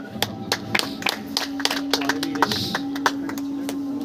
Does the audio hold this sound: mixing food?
no